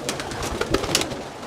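Pigeons cooing in a loft, soft low coos and rustling over a steady murmur of background noise, fairly close.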